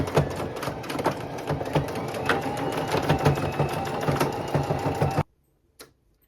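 Sewing machine running a simple stitch on clothing being altered, a steady fast mechanical whirring and clatter close by for about five seconds, then stopping abruptly with one short burst after a pause.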